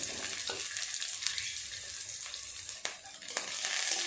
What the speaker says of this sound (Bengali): দিয়ে দেব কাজু আর কিশমিশ সমস্ত কিছু এইভাবে একটু নেড়ে ছেড়ে ভালো করে ভেজে নেব